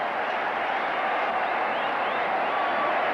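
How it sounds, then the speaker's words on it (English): Large cricket crowd chanting in anticipation as Azharuddin nears his 150, a dense, steady roar of many voices at a constant loud level throughout, heard from a distance with no clear individual words. "The crowd chanting in anticipation."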